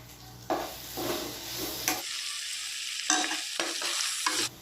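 Garlic, onions and curry leaves fry and are stirred in a pan for a Telangana home-style dish: steady, close sizzling broken by repeated scraping stir strokes, with short pauses where the hiss drops.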